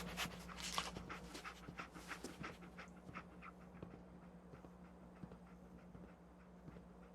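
Dog panting in Fallout 4, a steady run of quick breathy pants with some footstep-like clops, close and fairly quiet, no talk over it.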